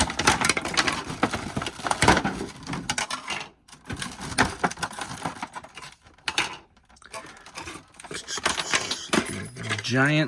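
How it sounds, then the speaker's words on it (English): Plastic action figure wings, from a NECA Gargoyles Broadway figure, are handled up close, giving dense rattling, clicking and clattering bursts with brief pauses. "Even the wings make noise."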